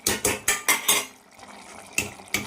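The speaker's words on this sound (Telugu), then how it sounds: "కొంచెం కారం వేసుకొని మొత్తం ఒకసారిగా కలిపేసుకొని" A spoon stirs a pot of curry with chili powder, giving five quick rhythmic metallic scrapes and clanks, a short lull, then two more strokes, close and clear with no talking.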